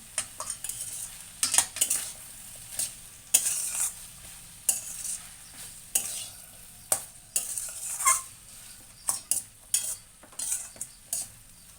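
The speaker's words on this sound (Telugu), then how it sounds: "ఈ సాల్ట్ శుభ్రంగా కలుపుకోవాలి" Salt is stirred into okra, potato and sweet corn curry frying in a pan, with repeated scraping strokes of a spoon against the pan over a soft sizzle and no talking.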